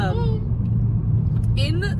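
Someone's car drives along a 35 mph road, its engine a low steady rumble filling the cabin while people talk over it in short bursts.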